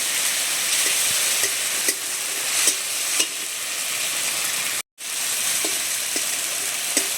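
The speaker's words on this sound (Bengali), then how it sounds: "আদা রসুন বাটা দিয়ে আমি আরও একটু ভেজে নিয়েছি" Onion sizzling steadily in a pan with ginger-garlic paste, a dense continuous hiss broken by occasional soft stirring taps and a brief drop-out near the end.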